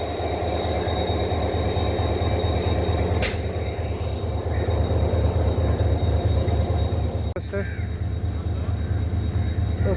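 Locomotive 30R8210 at Kotri Junction rumbles loudly and steadily with a deep continuous engine drone and a couple of sharp metallic knocks, as voices talk faintly beneath it.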